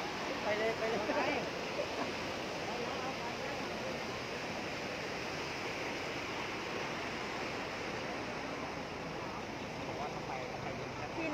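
Floodwater swirling over a road in Wichian Buri, Phetchabun, a steady, faint rushing wash of water, with people talking underneath.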